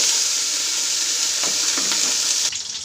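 Onion fries in hot oil with a loud, continuous hiss and a few brief scraping stirs, and the sizzle eases off slightly toward the end.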